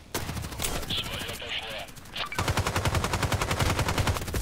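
Rapid automatic fire from an RFB rifle in the video game Contract Wars, two loud bursts of tightly spaced shots separated by a short gap with faint game noises between them.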